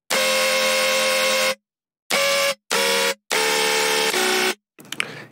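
A Serum synth lead bass processed with EQ and two OTT compressors blares in loud, buzzy, horn-like bursts: one long tone, two short stabs, another long tone, then a brief noisy tail.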